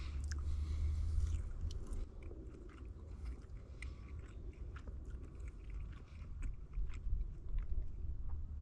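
Close, quiet chewing of a camel meat burger with sauce, a steady run of soft wet bites and crunchy mastication going on for several seconds without any talking.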